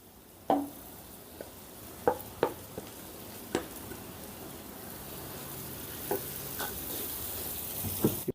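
Mashed potato filling being stirred and fried in a pan, a soft, steady sizzle broken by several sharp scrapes and clinks of a spoon against the pan, close up and with no talk.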